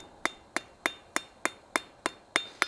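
Hammer blows ring out on steel at an anvil while a decorative hacksaw is forged, nine sharp evenly spaced strikes about a third of a second apart, each with a bright metallic ring, close and alone.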